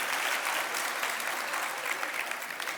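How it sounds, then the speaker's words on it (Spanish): A church congregation gives a strong round of applause to God during a Sunday morning sermon, dense and even clapping filling the room for the whole stretch. "Un aplauso fuerte a nuestro Dios."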